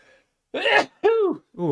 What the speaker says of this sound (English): got a sneeze coming